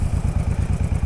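A Honda Shadow 1100 cruiser motorcycle cruises down the road with a big windscreen, its engine a loud, close, rapid rhythmic thump with a steady pulsing beat.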